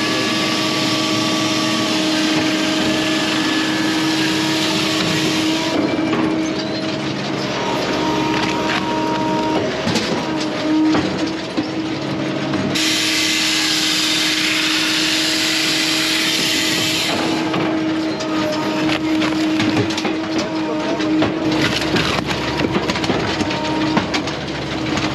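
An Eastonmade 22MB firewood processor runs with a constant loud hydraulic and engine drone, while clamping and cutting wood adds recurring whining saw passes, clunks and rattles over a long stretch, with no talking.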